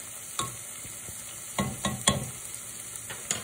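Sliced chicken and jalapeno sausage sautéing in a pan, a low sizzle broken by several scraping stirs of a utensil, close and clear, with no talking.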